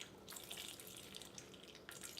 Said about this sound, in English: really squeeze all the water out